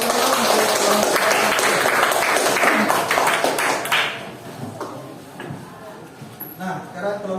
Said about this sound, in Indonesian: tepuk tangan dulu untuk kelompok